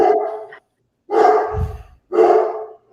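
A dog barks in three short bursts, with pauses between them. A low thump sounds under the second bark. The barks are fairly loud and close.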